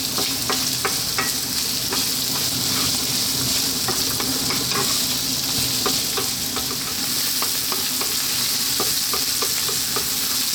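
Yellow peas vegetable stew stir-fries over high heat, a steady loud sizzle broken by repeated scraping and stirring clicks from the pan, close and without speech.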